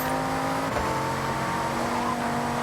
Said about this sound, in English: It sounds so good, though, that V10.